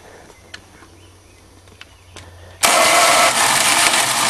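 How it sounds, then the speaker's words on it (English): A 1977 Dodge van with a starter that doesn't always catch fires up after a few quiet clicks, its engine bursting into a loud, steady running roar up close. "this starter don't catch all the time."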